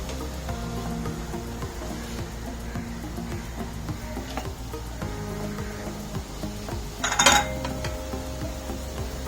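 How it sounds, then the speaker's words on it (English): Food stirred in a pan over a high flame with capsicum on the way, giving steady metallic scraping and clinks under a continuous hum, with one louder burst of clatter near the end. "Stir it on a high flame."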